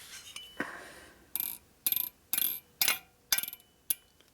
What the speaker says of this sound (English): But we can beat it back with a hammer.